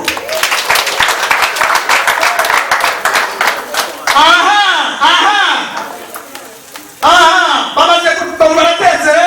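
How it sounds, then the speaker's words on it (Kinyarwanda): Dense, steady clapping from a wedding audience fills the first few seconds for newlyweds Brandine and Jean Claude, then gives way to loud voices with the applause thinning in the background. "ariko mwabahaye amashyi koko"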